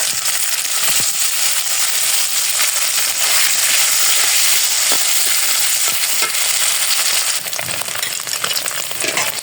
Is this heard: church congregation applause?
no